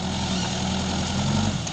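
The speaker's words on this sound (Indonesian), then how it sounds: "ini menggunakan alat berat Manito" A Manitou heavy machine's diesel engine runs steadily while fertilizer is sieved for aerial spreading on an oil palm plantation, a loud, constant low drone with no talking.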